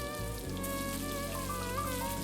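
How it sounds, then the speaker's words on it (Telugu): Mustard seeds, chana dal, urad dal and cumin sizzling in hot oil for a tempering, a steady close crackling hiss with tonal music playing underneath throughout. "ఈ పప్పులు నూనెలో వేగుతుంటే వచ్చే ఆ శబ్దం"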